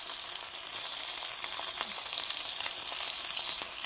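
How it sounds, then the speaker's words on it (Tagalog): Potstickers fry in a little olive oil in a pan, giving a continuous close sizzle with faint crackles and pops throughout and no voices. "inisrito ko na siya, konti lang siyang olive oil"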